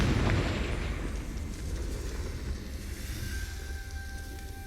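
A Confringo fire spell in Hogwarts Legacy going off as a loud, rumbling explosion, strongest at the start and fading into a long roar with a faint ringing tone near the end.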